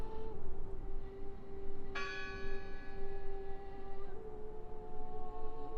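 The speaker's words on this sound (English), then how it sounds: "I heard the bell" A single bell in the game Draugen is struck once and rings out with a long, shimmering decay that slowly fades over several seconds, heard alone over a low ambient drone.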